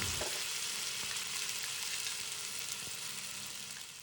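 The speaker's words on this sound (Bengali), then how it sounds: "এবারে এতে হলুদ গুঁড়ো এবং জিরে গুঁড়ো দিয়ে মশলাটা ভালো মতো ভেজে নিয়েছি" Onion, ginger and garlic spice paste fries in hot oil for Bengali chicken kosha, a steady close sizzle with faint stirring scrapes running throughout.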